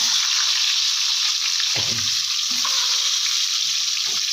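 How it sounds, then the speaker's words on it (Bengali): Eggs seasoned with salt and turmeric fry in hot oil in a pan, giving a loud, constant hissing sizzle with a few soft stirring and scraping knocks. "এবারে আমি একটা একটা ডিমগুলো সব ভেজে নেব"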